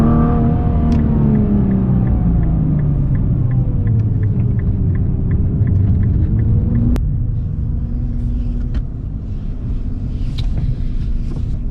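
A Nissan GTR Nismo engine drones steadily from inside the moving car, its low rumble rising and falling as the revs shift, with a brief sharp click partway through and faint wind noise over the cabin.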